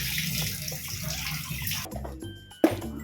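Mutton pieces being washed in water, close sloshing and running water with soft clinks of meat against a vessel, ending in a sharp knock, no talk.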